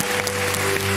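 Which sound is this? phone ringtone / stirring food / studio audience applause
studio audience applause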